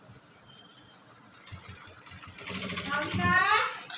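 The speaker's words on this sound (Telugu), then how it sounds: "ఇప్పుడు దీన్ని ఇలా తీసి పైనుంచి ఇలా కుట్టు అనేది వేసుకోవాలి." Sewing machine stitching a frock, starting softly and building into a fast, close, steady whir, with someone talking over the early part.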